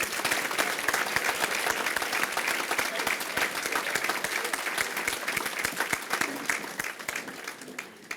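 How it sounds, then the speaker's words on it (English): An audience at a regional chamber family-owned business recognition event applauds steadily, a dense, even wash of many hands clapping for the full stretch, with faint voices underneath. "Let's give a round of applause to these folks."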